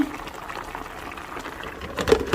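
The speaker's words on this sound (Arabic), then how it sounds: "بدأت تفور هاي اكلتنا" Kebab and tomato stew with onion, oil and tomato paste coming to a boil in a pan, a steady close bubbling simmer with a brief louder burst near the end.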